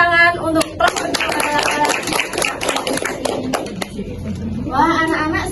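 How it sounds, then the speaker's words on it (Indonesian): Classroom of children clapping for a group during a micro-teaching lesson, a loud burst of quick overlapping hand claps mixed with kids' voices and chatter, close and lively. "Tepuk tangan untuk kelompok 2"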